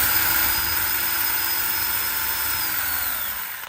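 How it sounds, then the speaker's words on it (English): Power drill boring out a bridge mounting hole in a Fender MIM Thinline Telecaster body to fit a 4mm walnut insert, a loud steady close whine that runs for several seconds before cutting off. "the reason I'm slightly drilling this out is to make room for the 4mm walnut"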